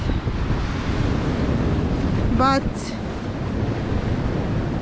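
Rough sea off the Australian coast, a constant roar of surf and wind buffeting the microphone, with a short bird-like chirp partway through and a voice speaking briefly.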